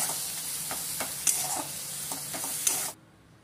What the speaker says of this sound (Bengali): এটাকে জাস্ট 2 মিনিটের মতো কষে নেব বন্ধুরা।